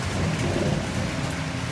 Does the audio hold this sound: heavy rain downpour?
yes